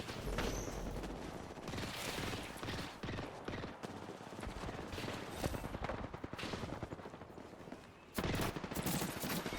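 Weapon fire in a multiplayer shooter video game: dense bursts of rapid gunfire and fusillade-like volleys crackle continuously at close range, with a short lull near the end before firing resumes loudly.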